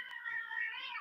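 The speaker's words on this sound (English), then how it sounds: "If you hear the cats in the background" A cat in the background gives one drawn-out meow, clear and moderately loud against a quiet room.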